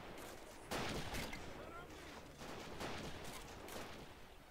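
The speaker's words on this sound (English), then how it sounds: "There's a lot of attacks just right here from that bloody artillery" Artillery fire and gunshots in the war strategy game Battle of Empires: Russia, several heavy booming impacts rolling through a continuous battle din, with faint talk mixed in.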